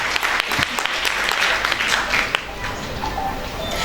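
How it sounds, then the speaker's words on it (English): A crowd at the Medha Manyata Divas 2023 event applauds its achievers, a continuous, fairly loud spread of many hands clapping, with a few sharper individual claps and faint voices underneath. "Let us give our achievers a huge round of applause"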